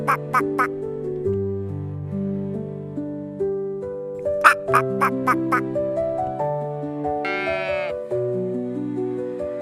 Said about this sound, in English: is a baby duck